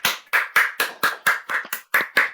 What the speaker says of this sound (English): Unmute yourselves and give these performers a round of applause.